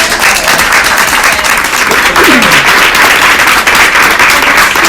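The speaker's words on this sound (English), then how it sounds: "So one more round of applause for all of our sponsors." Guests at a women's empowerment brunch give the sponsors a round of applause. The clapping is loud and continuous, with a brief whooping voice rising from the crowd partway through.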